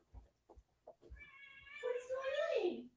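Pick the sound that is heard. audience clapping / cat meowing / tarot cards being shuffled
cat meowing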